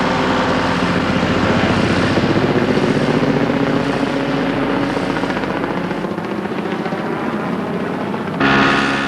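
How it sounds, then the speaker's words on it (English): A helicopter thunders loudly nearby, its rotor chopping steadily in a dense, continuous roar with no voices. "Oh, I can hear a helicopter, Robbie."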